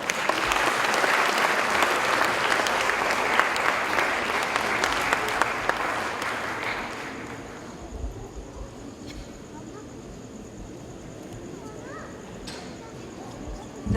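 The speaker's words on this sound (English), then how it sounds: "Let us also give a big round of applause to the director of this brilliant production, Ms. Sujata Paul Malia." Audience applause at a girls' school Founders Day celebration for the director of a stage production, dense clapping for about seven seconds that stops abruptly, leaving quiet room noise and faint sounds.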